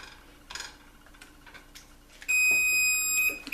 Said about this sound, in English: It's getting to the point where my buzzer's gonna go off.